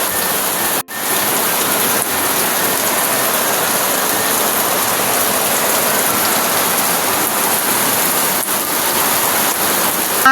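Heavy typhoon rain pours down steadily and loudly in the Bicol region of the Philippines, a dense unbroken hiss of drops drumming on surfaces close by.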